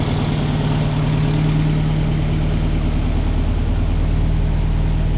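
A 1959 MGA 1600 roadster engine runs at idle, a steady close low rumble with a fast even pulse and faint mechanical whine, holding constant throughout.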